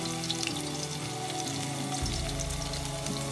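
Chopped garlic and green chili fry in hot oil for a potato 65 recipe, giving a loud, steady, continuous sizzle over a faint tonal background.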